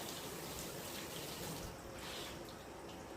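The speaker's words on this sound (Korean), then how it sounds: "찬물에 헹군다." Cold tap water runs steadily over blanched, frozen precooked noodles being rinsed for ulmyeon, a Chinese cooking exam dish. A continuous close gush of water fills the whole moment with no talking.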